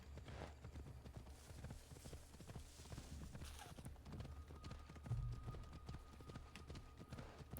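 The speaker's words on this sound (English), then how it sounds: "Let me borrow this horse." Horse hooves clip-clop steadily through a running gallop in Assassin's Creed Odyssey, a dense rhythmic pounding that stays fairly loud throughout with no talk over it.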